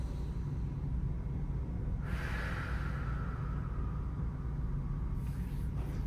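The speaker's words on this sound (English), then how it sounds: "Last big breath here" One big, slow breath in a seated stretch class: a clear airy inhale or exhale swells near the middle, with a fainter second breath near the end over a steady low background hum.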